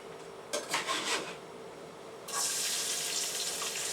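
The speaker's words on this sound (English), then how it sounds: "Scraper" A kitchen scraper rasps across a pan in a couple of short strokes, then a longer steady hissing scrape follows, close and moderately loud.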